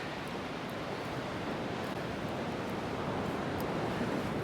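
Sea waves rolling in on the Northumberland coast, a steady broad wash of surf with some wind rumble, continuous and moderately distant with no voices.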